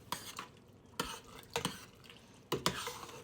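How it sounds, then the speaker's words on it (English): Carrots being stirred in a home cooking pot: about four distinct scraping, clattering strokes of a utensil over a low, steady cooking hiss, heard close up. "Then I added in the carrots. I'm going to give this a stir."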